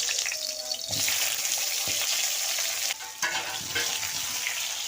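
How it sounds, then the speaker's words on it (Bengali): Potatoes frying in hot oil, with a loud continuous close sizzle and crackle throughout and occasional scraping from stirring. "তেল গরম হয়ে গিয়েছে আমি আলুগুলো কষে নেব"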